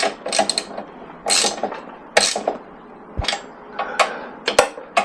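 A ratchet wrench tightens a bolt on a Harley Sportster front end, giving bursts of rapid metallic clicking strokes up close, with brief pauses and a couple of sharp knocks between them.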